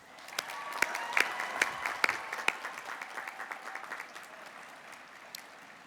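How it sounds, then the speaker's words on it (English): A crowd at a college of science commencement claps steadily at moderate volume, with a few sharp, distinct claps standing out before the applause gradually softens. "Let's offer them a round of applause."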